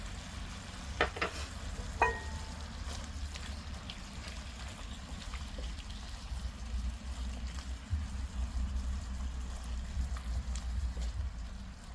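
Garlic and onion sautéing in a pan while octopus adobo is prepared at home, a steady low sizzle and stir with a few faint clinks near the start.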